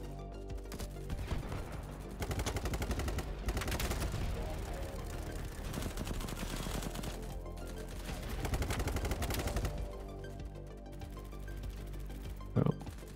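Gunfire in Battlebit Remastered, an ACR and other weapons firing: dense, fast automatic bursts crackle almost nonstop under a mix of game noise, with a few louder shots standing out.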